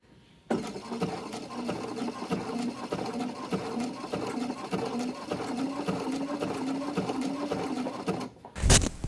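Sewing machine stitching lace appliqué onto vintage-style underwear, a steady close whirring hum that runs continuously for about eight seconds after a brief silence, then stops with a short clatter at the end.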